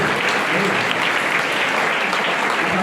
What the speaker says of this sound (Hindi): ये ताली बजाओ